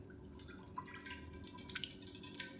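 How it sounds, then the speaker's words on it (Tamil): A mix of coconut oil and groundnut oil is poured into a cooking pot for mutton biryani, making a faint, steady trickling and dripping sound close by with no voices. "இப்போ இந்த எண்ணெயை சேர்த்துக்கலாம்"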